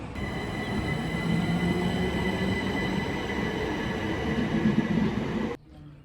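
A train rumbles steadily nearby at a station platform on the Brighton Main Line near Hassocks, with a low roar and faint high whine, then cuts off sharply near the end, leaving quiet ambience.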